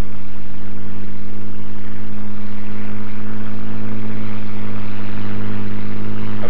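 A P-51 Mustang's piston engine drones loudly and steadily during takeoff, a deep constant roar with a strong low hum that stays even from start to finish.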